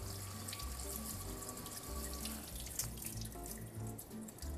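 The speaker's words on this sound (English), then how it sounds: "take some cold water and just really get a lot of that salt off of those cucumbers" Cold water runs steadily from a kitchen tap over salted cucumbers in a colander, a continuous close splashing rush with faint drips and light clatter throughout.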